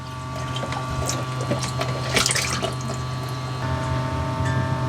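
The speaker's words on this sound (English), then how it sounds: "let me turn the foot pump valve on" A foot pump in a galley sink pushes water through, with gurgling flow, mechanical clicks and a steady low hum, with no voices.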